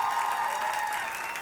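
A church congregation applauds during a service, with steady, even clapping throughout the short stretch and no talk over it.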